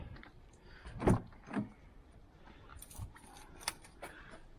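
Keys jangling and a car being locked on a 2014 used car, with a few short clicks and metallic rattles, a thump, and brief electric whirs, heard close by without speech.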